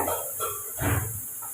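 Soya chunks are sautéed with plenty of onion in a pan for a soya pepper fry. A spatula clinks and scrapes against the pan under a soft, faint sizzle.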